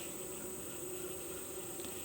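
Agitated honeybees tend a newly introduced queen inside a hive, giving a faint, steady, continuous buzzing hum with no other sounds over it.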